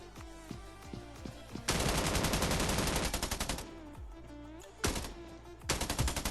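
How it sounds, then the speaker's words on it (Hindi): Gunfire from the mobile battle-royale game Scarfall 2.0: a few separate single shots, then long rapid automatic bursts, a pause with scattered shots, and another loud automatic burst at the end. "यहाँ पर भी मेरे को कुछ गन साउंड्स आ रहे थे"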